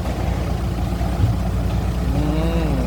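Kubota M6240 SUH tractor with an aftermarket three-inch exhaust, its diesel engine giving a steady deep rumble close by with a slight rise in pitch toward the end.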